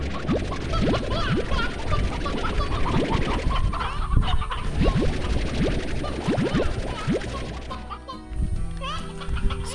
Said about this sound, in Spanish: ¡Gallinas!